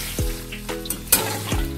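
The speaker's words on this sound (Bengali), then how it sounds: "দিয়ে হালকা করে ভেজে নেব পনিরটাকে।" Paneer cubes seasoned with salt and turmeric fry lightly in oil, a close bubbling sizzle with a few scrapes and taps of a spatula in the pan over about two seconds, no voices.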